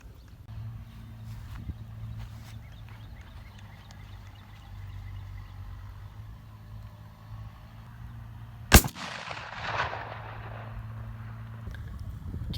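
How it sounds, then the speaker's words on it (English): A 12 gauge shotgun loaded with Hevi-Shot Speedball ammo fires a single sharp, loud blast at a target board, the report echoing and decaying over a low outdoor background hum. "So we're going to shoot this with the hevi-shot, see what kind of pattern, what kind of penetration we get."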